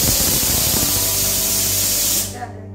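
Water sprays hard into a kitchen sink while dishes are washed in a village home, a loud steady hiss lasting about two seconds before it abruptly cuts off.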